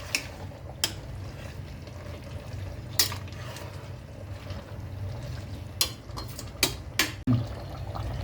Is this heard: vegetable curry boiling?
yes